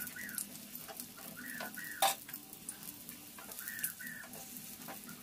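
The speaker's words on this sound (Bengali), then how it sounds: "আমি তাওয়াতে দিলাম, তাতে অল্প তেলে ভাজাটা হয়ে যাবে" A snack for a tiffin recipe shallow frying in a little oil on a tawa, a soft sizzle with light stirring scrapes, while faint chirping birdcalls sound in the background.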